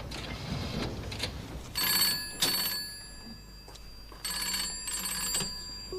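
An old telephone bell rings in repeated bursts, loud and near, with short quiet gaps between the rings.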